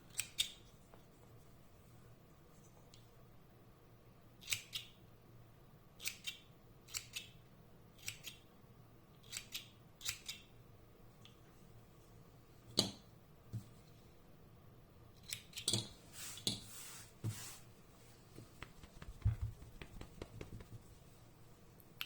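Scissors trimming the yarn of a pompom made on a pompom-making tool, a series of sharp, quiet snips spaced irregularly, growing more frequent near the end, close up in a quiet room with no talking.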